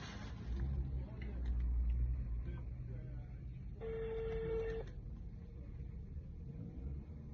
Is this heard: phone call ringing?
yes